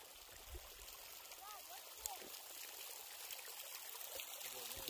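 The Green River flows near Crystal Geyser in Utah with a continuous, steady rushing and trickling of water at a moderate level, and faint voices sit in the background.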